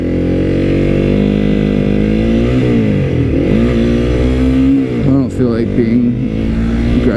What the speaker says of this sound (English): I'm riding a motorcycle.